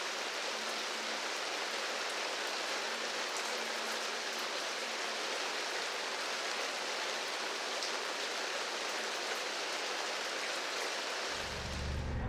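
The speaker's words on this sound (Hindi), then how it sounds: "बारिश तो हो रही है लेकिन हमें निकलना है।" Steady, dense rain hisses outdoors on a wild Alaskan road, loud and unbroken throughout, with a low rumble rising at the very end.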